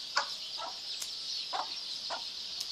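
A chicken clucks in a quick series of soft, evenly spaced calls over a steady background hiss, with no voices.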